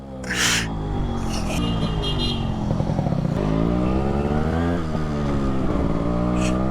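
A Yamaha RX-100 motorcycle engine hums and revs during a ride, its pitch rising and falling with the throttle. A few faint breathy sounds come through over the engine.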